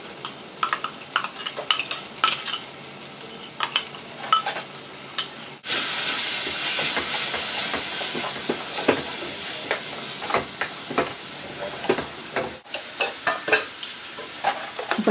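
A soaked masala of salt, chilli, coriander and turmeric hits a hot pan for aloo gobhi, sizzling and hissing loudly while a spoon stirs and scrapes close by in steady bursts.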